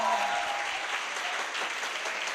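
Audience applause at an Indonesian motivational seminar, a dense, steady wash of clapping from a sizeable crowd that holds at an even level throughout, with a brief voice at the very start.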